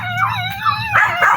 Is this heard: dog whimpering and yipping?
yes